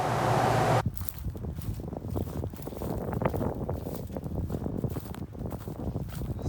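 Wind buffets the microphone outdoors during airgun shooting with an FX Dreamline .25 caliber air rifle, a steady gusty roar with rustling after a brief burst of noise at the start.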